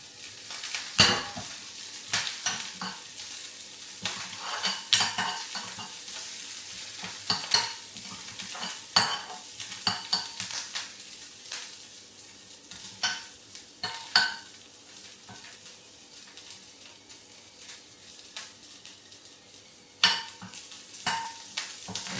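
Steady oil sizzle with tempering spices crackling in a hot pan, stirred with a spoon that scrapes and clinks at intervals, close and continuous.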